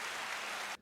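A short burst of canned applause fired from a soundboard, a dense hiss of many hands clapping at steady volume that cuts off abruptly after under a second.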